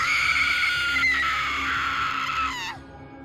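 A woman's long, high scream rings out loud and close, holding steady for over two seconds before cutting off abruptly, with no talking over it.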